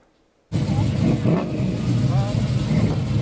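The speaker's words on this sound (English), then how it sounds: "Engines are roaring for one of the last big weekend events in Ocean City." Classic car engines revving at a cruise event in Ocean City, a loud, steady roar of motors that starts abruptly after a quiet half second and continues close and dense with faint voices under it.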